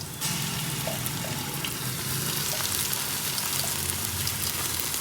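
Ginger and onions fry in a pot for mutton dum biryani, giving a steady, dense sizzle that holds close and even throughout with no talking.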